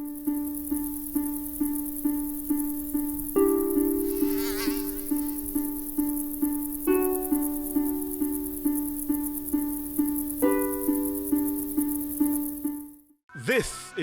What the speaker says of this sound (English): This is the Aedes aegypti mosquito that spreads the Zika, chikungunya, and dengue viruses.